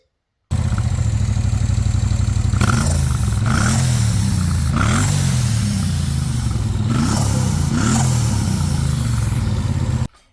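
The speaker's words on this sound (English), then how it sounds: "and with the cat opened up, the exhaust sounds like this." Triumph Bonneville Bobber exhaust with the standard silencer and the catalytic converter opened up, idling with a deep, steady burble, then revved in several sharp blips that rise and fall back, recorded close and loud with no talking.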